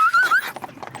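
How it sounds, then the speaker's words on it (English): A horse pulling a carriage at a lavish UK child's Sweet 16 birthday party gives a loud, close whinny, followed by a run of soft hoof clops. "Why could I not give you a horse and a carriage?"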